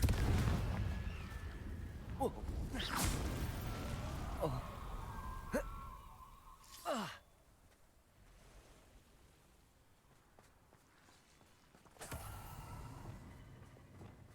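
Repeated blasts of a Confringo explosion spell during Hogwarts Legacy combat, sharp bursts crackling through a dense rumbling battle din, with a lull before a final louder eruption.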